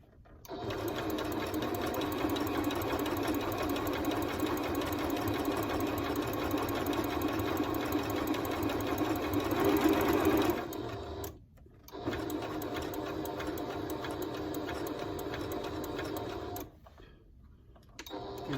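A sewing machine stitches a fabric bowl, running in a fast, steady whir for about ten seconds, then stopping briefly twice before resuming.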